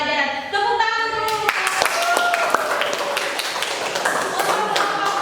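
A school class claps together in a classroom, a burst of many quick hand claps, close and lively, with voices mixed in at the start.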